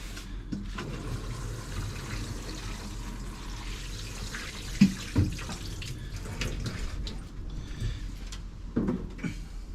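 Running tap water rinses out a plant pot in a greenhouse, a steady close splashing flow with a few small knocks and bumps of the pot.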